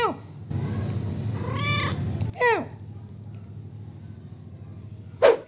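A cat, a mother with kittens, meows a few times, short rising cries spaced apart, with a louder final meow near the end over a low background murmur.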